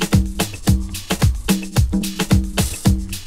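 Percussion loop sample built around conga drums, with repeating hand-drum hits in a steady syncopated groove, close and punchy, with no voices.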